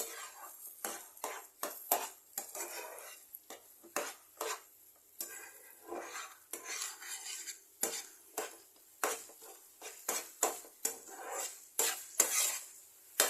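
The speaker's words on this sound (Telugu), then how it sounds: "ఇప్పుడు మెల్లగా కలుపుకోవాలి." A spoon stirs fried egg masala curry slowly in a metal pan, giving a rhythmic series of close, sharp scrapes and clinks over a faint sizzle, with no voices.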